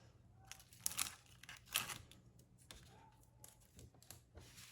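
Tape is peeled slowly off a watercolor painting of a misty pine forest, quiet crinkly tearing and sticky ripping in short uneven bursts, close and faint.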